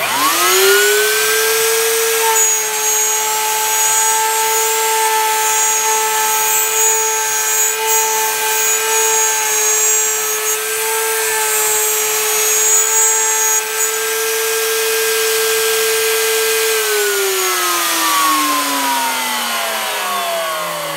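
A Mach3-controlled CNC machine cuts in constant velocity mode, its spindle and stepper motors holding a loud, steady whine with a clear pitched tone for about fifteen seconds before the pitch glides down as it slows.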